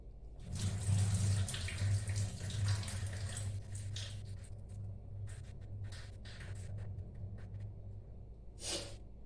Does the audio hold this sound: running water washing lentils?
yes